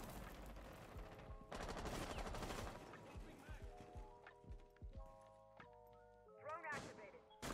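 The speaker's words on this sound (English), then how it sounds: "I'm about to have a gunfight with Thunderbird down here." Gunfight in the video game Rainbow Six Siege: dense bursts of gunfire for the first few seconds, then scattered shots and electronic game tones, loud and close throughout.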